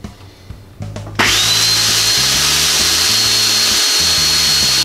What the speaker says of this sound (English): And now we puree it even more.